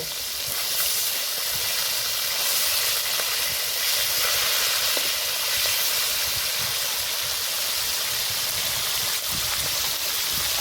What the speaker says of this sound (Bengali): মাছগুলো এবার উল্টে দেব